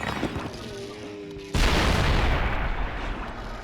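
A Doom-shroom detonates in Plants vs. Zombies 2, a sudden loud booming blast that cuts in partway through and rumbles on noisily after quieter game sounds.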